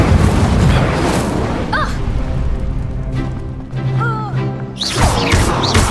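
Incendio fire spell blasts in Hogwarts Legacy, loud booming crashes and bursts layered in dense game combat noise, with whooshing spell effects throughout.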